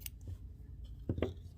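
Scissors snip crochet yarn while finishing an amigurumi dragonfly, two quick close cuts with faint handling noise around them in a quiet room.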